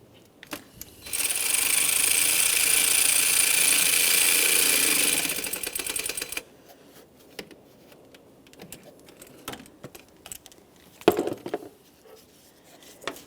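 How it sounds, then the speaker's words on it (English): A power driver whirs for about five seconds as it snugs the lower hose clamp onto the throttle body of a 2007-2017 Jeep Patriot 2.4L, close and steady, then gives way to quiet clicks and handling noises. "I'm going to continue on with snugging my lower clamp."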